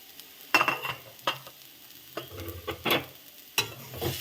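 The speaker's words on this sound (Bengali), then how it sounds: "এখন এমনি আমি এরকম করে নেড়ে নেড়ে ভাজবো" Radish stalks frying in a pan, heard close as bursts of sizzling and spatula scrapes every second or so while being stirred, with quieter hiss in between and no talk.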